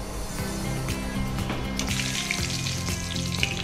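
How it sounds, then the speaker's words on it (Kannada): Curry leaves fry in hot oil with a loud, close, crackling sizzle and spitting pops, while a steady tonal hum persists underneath throughout. "ಕರಿಬೇವನ್ನ ಸ್ವಲ್ಪ ಫ್ರೈ ಮಾಡ್ಕೊಳ್ಳಿ ಸರ್"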